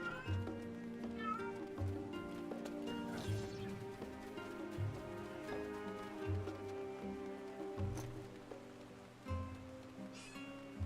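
A cat in the video game Final Fantasy XIV meows again and again while being petted. The short, clear meows fall in a steady rhythm over a soft, continuous game background.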